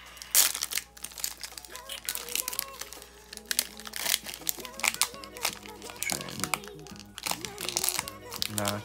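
Crinkling and tearing of a foil Donruss 2020 football card pack wrapper, close and crisp, with bursts of crackle as the corner is ripped open; a voice speaks over parts of it.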